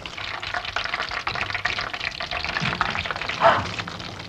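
Hot oil bubbling and crackling in a deep fryer sitting on a hot plate, a steady busy sizzle with a brief louder spurt near the end.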